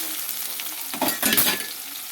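Bay leaf, whole cumin and chopped onion drop into hot oil for tempering, giving a steady sizzle that swells in a louder, crackling burst midway before settling back to a continuous fry.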